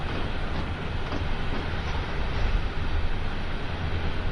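A long freight train in Train Sim World 2 on Sand Patch Grade rolls past with a steady, heavy rumble and faint rhythmic clatter, continuous and fairly loud throughout.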